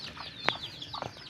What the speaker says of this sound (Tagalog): Maliliit na manok, bantam.